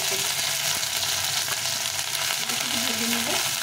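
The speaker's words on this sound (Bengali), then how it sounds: "আদা কাঁচা লঙ্কাটা ভাজা ভাজা হয়ে গেছে" A paste of ginger and green chilli fries in hot oil, giving a close, even sizzle with light stirring throughout the short stretch.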